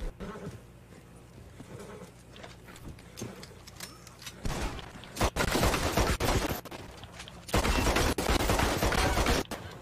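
Gunfire in the Western game Red Dead Online, starting with quieter scattered shots and turning into loud, dense volleys of rapid firing in the second half, close and continuous.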